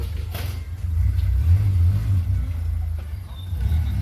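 A van engine rumbles low and close, rising into a heavier rev midway before settling back to a steady idle.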